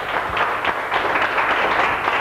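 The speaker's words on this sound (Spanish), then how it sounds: "Un aplauso para ella" Studio audience at a Spanish TV game show clapping for a contestant named Mariola, steady, dense applause filling the whole short moment.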